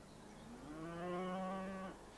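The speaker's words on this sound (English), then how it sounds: "The knowledgeable farm watcher might come across calves hiding in the long grass." A cow calf in long grass on a farm gives a single drawn-out moo, close and clear, rising and falling over about a second against a quiet outdoor background.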